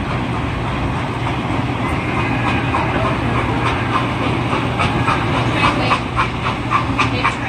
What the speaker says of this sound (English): Oh, the train's coming, dude.